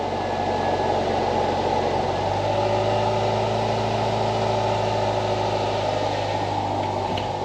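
A Subaru Forester's EJ25 engine idles steadily after being reinstalled, a loud, even mechanical drone with a constant low hum, close by and with no talk.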